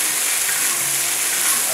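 Stir-frying in a hot wok fills the kitchen with a steady, close, even sizzling hiss that carries through the whole short moment without a break and with no one talking over it.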